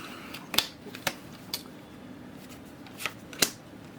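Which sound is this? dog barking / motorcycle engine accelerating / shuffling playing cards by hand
shuffling playing cards by hand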